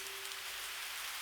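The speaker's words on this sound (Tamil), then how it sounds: "என்ன மழை கொட்டிட்டு இருக்கு" Heavy rain pours down in a steady, dense roar of drops on surfaces, loud and continuous with no voices.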